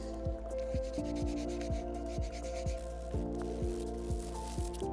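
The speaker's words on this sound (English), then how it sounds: "I've just got some soapy water and some various grits of sandpaper. I'm going to start with an 800" Wet sanding crash-damaged Lamborghini carbon fibre with 800 grit sandpaper and soapy water, a steady rhythmic back-and-forth rubbing at about two strokes per second, close and continuous over a constant background hum.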